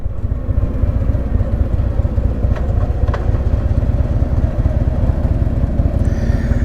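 A Kawasaki 900 motorcycle engine drones loud and close while riding on a highway, a steady throbbing rumble with no pauses, plus a couple of faint clicks partway through.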